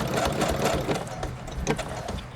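A sewing machine stitching a zigzag seam with its bobbin thread nearly used up, a close rapid mechanical chatter running continuously with brief shifts in pace, no voices heard.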